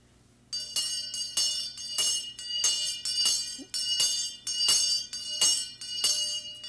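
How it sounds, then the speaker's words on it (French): A large bell is struck over and over at a steady, fairly quick pace, each clang fuller and heavier, ringing close and alone without speech. "On prend la grosse cloche."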